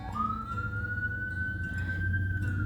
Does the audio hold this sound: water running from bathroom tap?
no